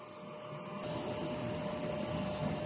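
A DTF printer runs a print head cleaning cycle, giving a steady mechanical whir with a constant hum that grows louder and fuller partway through and then holds.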